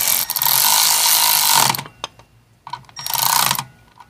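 Ratchet tightening bolts on the clutch of a Honda GL500 / CX500 motorcycle, rapid loud clicking runs lasting over a second, then a short pause and a second burst, close up.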